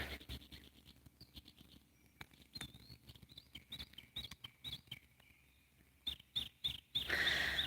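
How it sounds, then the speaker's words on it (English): Outdoor birdsong at a tranquil nature spot near dusk: repeated short chirps and whistled phrases sound faintly at a distance over low background rumble, with scratching, tapping noises close by and a louder burst at the end. "I do hear lots of bird song"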